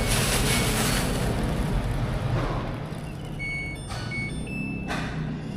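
A coin-operated washing machine in a Chiang Mai laundromat starts to turn and weigh its load with a low, churning rumble and watery swish. A few short electronic beeps sound near the end.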